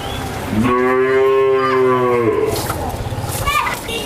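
A Holstein Friesian heifer on a dairy farm gives one loud, sustained moo lasting nearly two seconds, close to the microphone, followed by quieter farm background and faint low calls.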